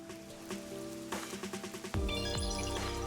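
Rain falls on a large city in the video game Rain Code, a soft, even patter heard quietly beneath game music tones and chimes.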